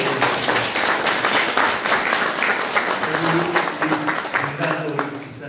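A church congregation applauds during a 25th-anniversary thanksgiving service dedicating a new education hall, with steady dense clapping throughout and voices murmuring underneath.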